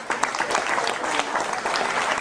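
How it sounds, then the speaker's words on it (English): A crowd at the 2011 Minnesota state cattle show applauds the heifer exhibitors, a loud, steady round of clapping that fills the whole moment with a few sharper claps standing out near the start. "Let's all give them a round of applause."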